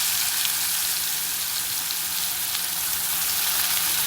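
Onions frying in hot oil, cooked in a pan for paneer bhurji. A steady, dense sizzle holds at an even level for the whole stretch, close by and with no talk over it.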